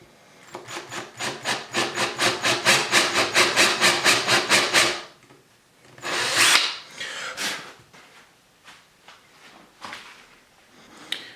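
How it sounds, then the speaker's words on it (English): A power drill bores into reclaimed wood for a fire pit coffee table, going down to a marked depth in a quick run of rhythmic grinding pulses. A pause follows, then a few shorter bursts as the drill is backed out. "all I'm going to do is drill down to a pre-marked depth"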